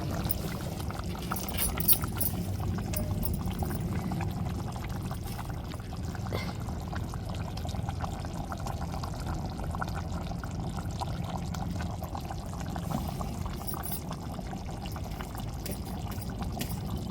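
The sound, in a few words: pouring shrimp (samba kooni) curry onto rice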